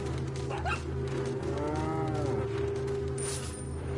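Cows moo in a rural village in a Resident Evil game, one long drawn-out low call rising and falling in the middle, over a steady ambient hum without speech.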